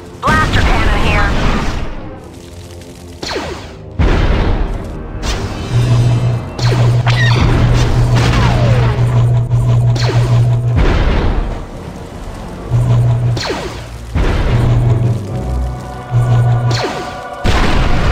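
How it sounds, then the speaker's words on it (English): Blaster cannon fire from a Star Wars Galactic Battlegrounds real-time strategy battle: heavy, booming blasts and crashing impacts repeat in a dense, loud stretch of overlapping combat noise with a low hum running beneath. "Blaster cannon here."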